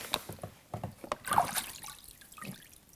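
Liquid rust remover drips and trickles off a cast camelback straightedge just lifted out of its bath, with scattered close drips and splashes, a few small knocks and a quiet background.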